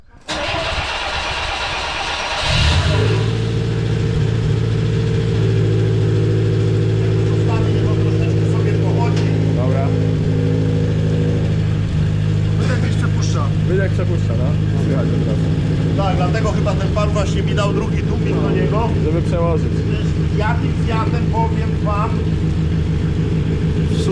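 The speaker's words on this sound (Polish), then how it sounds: "A nie, no tutaj Fiacik się jeszcze odpala, moi drodzy" A 1974 Fiat 125p cranks and fires after a short starter whir, then settles into a steady, loud, close idle with a slightly uneven throb while people talk over it.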